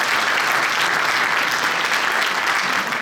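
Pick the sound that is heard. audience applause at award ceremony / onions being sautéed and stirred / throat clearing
audience applause at award ceremony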